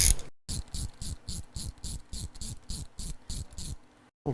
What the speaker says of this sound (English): We're going to grab a 17mm socket and remove the linkage nut